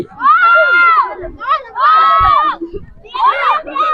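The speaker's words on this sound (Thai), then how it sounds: "อันนั้นท่านผู้ชมเฮาก็สิพามาเบิ่งบรรยากาศกองเชียร์เนาะ" A school sports day cheering squad of children shouting and chanting together in loud, sustained bursts with short gaps between, close and energetic, as if rallying their team.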